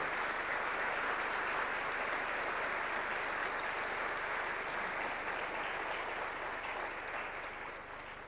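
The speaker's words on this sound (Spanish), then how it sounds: "Pido un fuerte aplauso para este acontecimiento que suma para el diálogo y la" An audience at an economics panel on growth, investment and labor rights applauds in a steady, dense wash of clapping that fades a little at the end, with no voices.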